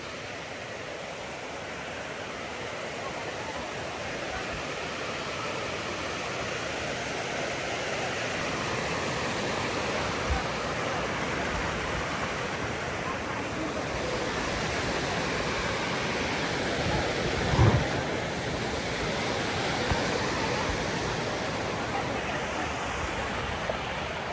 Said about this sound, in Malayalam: നല്ല ഫോഴ്സുണ്ട് വെള്ളത്തിന്